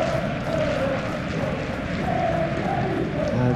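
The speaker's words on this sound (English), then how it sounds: "the match day noise at this place is truly special" Football crowd at a Premier League stadium on match day, Liverpool against West Ham, a continuous loud roar of massed voices and chanting that stays steady and dense throughout with no single voice standing out.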